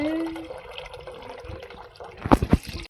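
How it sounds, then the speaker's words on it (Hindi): Rainwater drips and trickles steadily during heavy continuous rain in Dehradun, a soft watery patter with a few louder splashes near the end, as a voice talks over it. "पानी कैसे टप टप टप चो रहा है, देख रहे हो? इतनी लगातार बारिश हो रही है"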